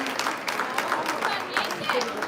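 Spectators at an under-15 regional boxing tournament in Veneto applaud a new regional champion. Moderate clapping runs continuously beneath an announcer's voice.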